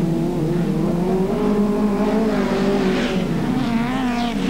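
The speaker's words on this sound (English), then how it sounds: "All these cars, Volkswagen powered," Volkswagen-powered race cars of about 2.3 litres, 1980s circuit racing, screaming loud and close with steady high engine revs that shift pitch as they pass, filling the whole stretch without any talk.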